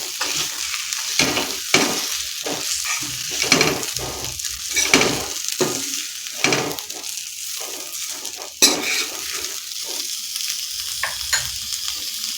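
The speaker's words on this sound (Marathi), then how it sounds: "याच्यामध्ये आपण हे भरलेलं कारलं घालायचं व्यवस्थित हलवून घ्यायचं आहे मिक्स करून" Stuffed bitter gourds fry in a pan with coconut and garlic, a continuous close sizzle punctuated by repeated scraping and clacking stirs throughout.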